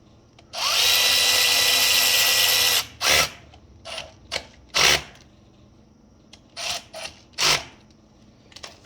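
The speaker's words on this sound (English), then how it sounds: "We'll go ahead and tighten these down." A power tool buzzes in one long burst, followed by several short, sharp whirring bursts spaced irregularly as it tightens bolts on a Honda ATV starter, close and fairly loud, with no talking.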